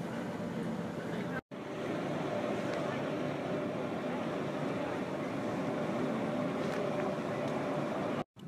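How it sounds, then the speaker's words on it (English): Steady engine drone and wind rush aboard a ferry crossing a bay in Iceland, continuous and moderately loud with brief dropouts. "made it to the ferry"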